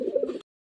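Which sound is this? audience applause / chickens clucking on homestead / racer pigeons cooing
racer pigeons cooing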